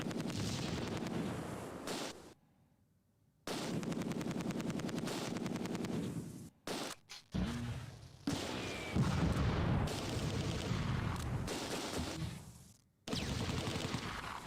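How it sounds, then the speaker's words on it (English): Heavy machine-gun fire and booming artillery from the World War II strategy game Close Combat 2 crackle in dense, repeated bursts, broken by a few brief silences before the barrage resumes loudly. "Heavy fire."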